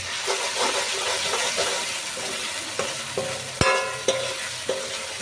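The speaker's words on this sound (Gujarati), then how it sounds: "અને હવે આપણે એને હલાવીશું" A spoon stirs mutton curry with tomatoes and salt in a hot pan, producing a constant sizzle broken by sharp scraping knocks against the pan, one especially loud clack midway.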